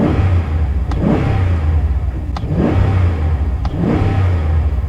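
Dodge RAM 1500 Classic Crew Cab pickup with a Hemi engine revs three times in a row, each loud throttle blip rising and falling over a steady idle rumble, with no talking.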